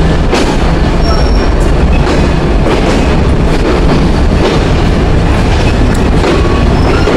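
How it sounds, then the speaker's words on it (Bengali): The Chitra Express intercity train rolls into a platform at Khulna railway station with a loud, steady rumble and rattling wheels on the rails, close by and unbroken throughout. "প্ল্যাটফর্মে আমাদের আন্তনগর চিত্রা এক্সপ্রেস ট্রেনটি প্রবেশ করলো"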